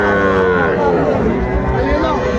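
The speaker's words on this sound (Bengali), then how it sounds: "দর্শক দেখছিলাম এখানে ছোট ছোট ষাঁড় বাচ্চা সংগ্রহ করছে মাঝারুল ভাই" Cattle moo loudly and close at a busy rural livestock market selling young bull calves, one long drawn-out bellow filling the whole moment amid crowd murmur.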